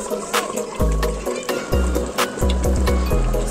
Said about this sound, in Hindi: हम फिर से थोड़ा सा गर्म पानी डालेंगे।